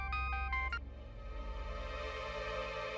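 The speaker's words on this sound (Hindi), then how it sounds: "तो गुड्डू का फोन।" A quick run of telephone keypad dialing tones, followed by a steady electronic ringing tone that keeps sounding throughout.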